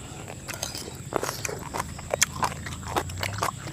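Someone bites into crunchy food and chews it outdoors by rice fields, eaten alongside a spicy mixed papaya salad. The faint crisp crunches come in an uneven string close by.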